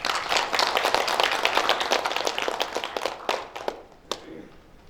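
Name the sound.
audience applause at a journalists' day ceremony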